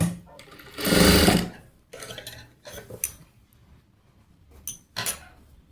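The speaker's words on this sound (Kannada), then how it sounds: "ಈ ರೀತಿ ಇಟ್ಕೊಂಡು ಸ್ಟಿಚ್ ಹಾಕೋಣ ನೋಡಿ." Sewing machine stitching a puff sleeve, with one loud sustained whirring run of the needle, then a few shorter, quieter bursts and light handling clatter.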